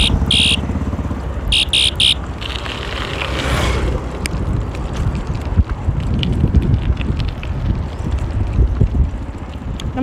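Steady low rumbling buffeting of wind against the microphone while cycling in Kanyakumari, continuous and loud throughout, with a few brief higher-pitched bursts early on.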